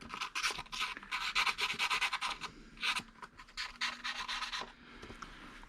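Hand sanding with 1500 grit sandpaper on a Honda Monkey Z50 part, quick rhythmic scratchy back-and-forth strokes in bursts with brief pauses, close and fairly quiet.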